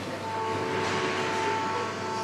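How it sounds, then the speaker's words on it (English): A small train carriage runs on the line to Mürren, Switzerland: a steady rumbling ride with a sustained mechanical whine and rattling, heard from inside the car, moderately loud and continuous. "So now we're getting on this train, which takes us the next part of the journey."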